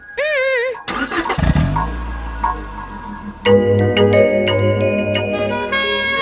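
Car engine idling and running steadily during a driving lesson, a low continuous rumble under people talking, joined midway by a brighter tonal layer.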